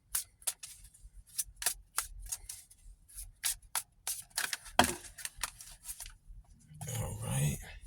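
Message of Love Oracle cards are handled close up, giving a run of short crisp snaps and flicks in an uneven rhythm that ends in a longer rustling shuffle. No talk is heard.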